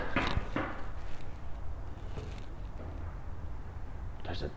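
Sharp knocks on a door, a couple near the start, a lone rap around the two-second mark and another pair at the end, all heard indoors over a steady low hum.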